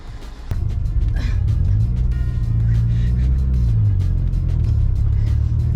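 A Mazda MX-6 turbo car engine drones loudly from inside the cabin as it accelerates in second gear, a steady rumble after an abrupt start with rising and falling engine pitch.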